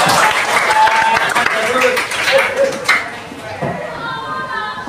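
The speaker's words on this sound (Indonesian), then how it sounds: "Minta tepuk tangan untuk Ajul." Applause fills a school classroom during an Islamic religious education lesson, a dense broadband clapping that runs loud for about three seconds and then fades, with voices murmuring alongside.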